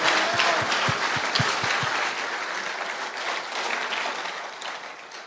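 A church congregation at a conference applauds God, steady dense clapping that fills the room, strongest at the start and gradually thinning toward the end, with no voices over it.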